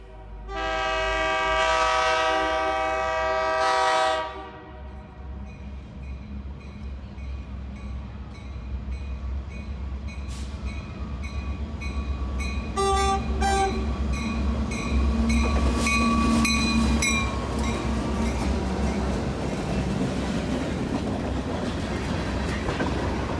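A train horn blares loudly with several sustained chords, then a long Reading, Blue Mountain and Northern freight train rumbles past through Tamaqua with steady rolling noise, clanks and squeals.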